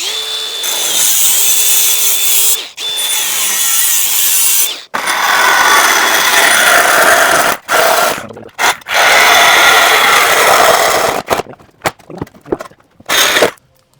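A power tool saws through the steel exhaust pipe of an Audi S4 during an X-pipe resonator delete, a loud, sustained harsh grinding whine broken by short pauses and ending in choppy bursts.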